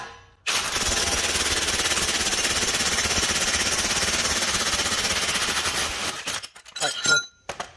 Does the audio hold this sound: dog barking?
no